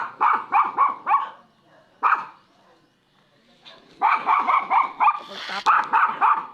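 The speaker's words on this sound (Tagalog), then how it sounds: "Si Husky yun. Yun ang malaking aso pero hindi nangangagat." A large husky barks in rapid bursts of four or five, pauses, then resumes a longer string of loud, close barks.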